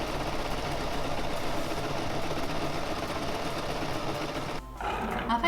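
A sewing machine stitches fur waistcoat pieces together, its motor whirring continuously at close range with a brief pause near the end before it resumes.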